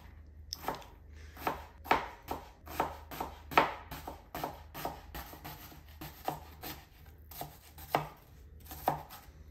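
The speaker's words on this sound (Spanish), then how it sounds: "Ahora vamos a cortar la cebolla que vamos a poner encima de los chilaquiles y el cilantro." Onion and cilantro chopped with a knife on a board, a steady run of crisp close chops at an uneven brisk rhythm, about two to three per second, with no voices.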